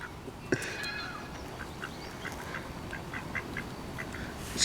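Ducks quacking outdoors on a rainy day, a run of short, fairly faint calls repeating at irregular intervals over steady background noise, with one sharper call near the start.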